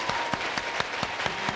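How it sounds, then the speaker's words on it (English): A conference audience claps hard in a fast, regular rhythm, the sharp claps close and distinct over a low crowd murmur. "Clapping wildly."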